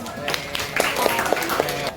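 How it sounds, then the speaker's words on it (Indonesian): Classmates in a school classroom clap for a student named Dimas, a scattered run of hand claps at moderate distance with voices talking alongside. "Tepuk tangan buat Dimas"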